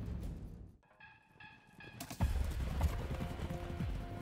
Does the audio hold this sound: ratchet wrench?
no